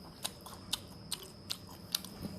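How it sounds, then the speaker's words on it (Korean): Grilled gizzard shad is chewed in a quiet room, with a series of sharp, crisp crunchy bites spaced about half a second apart, close and distinct. "제가 이거 한번 먹어보겠습니다"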